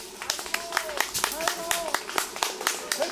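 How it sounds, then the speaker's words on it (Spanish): Scattered claps and a few cheers for avocado harvest cutters at an orchard in Guarachanillo, Michoacán, irregular and moderately close, mixed with a voice calling out over the crowd. "Un aplauso para los cortadores, fuerte."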